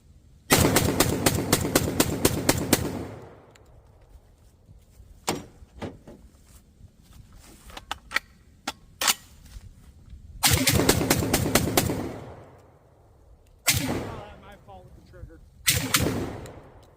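A JTS M12AR AR-style 12 gauge semi-automatic shotgun firing outdoors in loud rapid strings of shots, a pause with scattered single shots and clanks, then more bursts.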